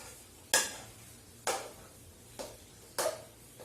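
Capsicum and potato sabzi stirred in a pan, four distinct scraping strokes at a slow, uneven rhythm over a soft steady sizzle, close and moderately loud with no talking.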